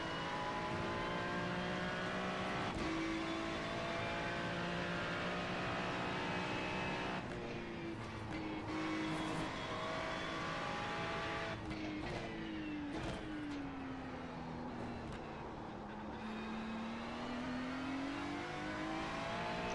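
Race car engine in a racing video game, a steady, moderately loud revving drone that rises and dips as the car accelerates out of curves, with no one talking.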